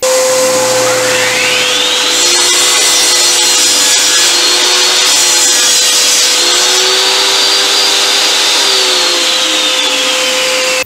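A table saw trims a small piece off a wooden feather board: the blade whines at a steady pitch while the wood cut rises and falls over it, loud and close, with no talking.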